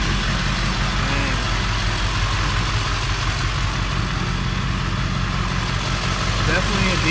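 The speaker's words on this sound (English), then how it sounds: "Definitely a diesel." A tuned Ford F-350 diesel pickup idles with a deep, steady rumble from big exhaust pipes, constant and fairly loud throughout.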